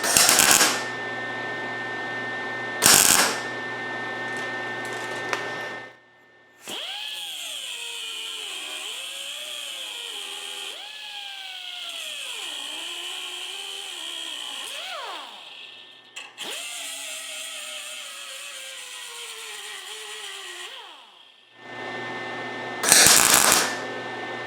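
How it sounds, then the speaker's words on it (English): A patch is tack welded onto a rusted car door, short crackling weld bursts at the start and end, with a long whining, pitch-shifting power-tool run in between. "Now what I want to do is finish tacking this back together where I'd cut it open"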